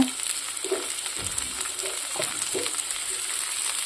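Onion and tomato frying together in a pan for an egg dish, an even, constant sizzle with a few soft low knocks of a spoon against the pan.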